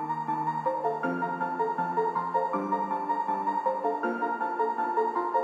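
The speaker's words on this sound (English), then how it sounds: "repetitive, happy sounding piano melody" A simple, repetitive, happy-sounding piano melody from the Face Plant VST loops steadily at even loudness, its bright chordal pattern cycling about every second and a half with no voices.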